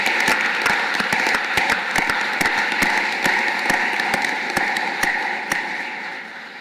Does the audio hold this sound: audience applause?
yes